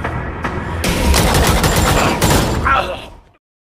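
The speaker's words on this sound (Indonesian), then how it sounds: "dengan gaya dual pistol, Frank menghabisi si botak Jin Tao" Rapid, loud gunfire from dual pistols in a film erupts in a dense burst of overlapping shots, close and chaotic, then fades out with a whoosh.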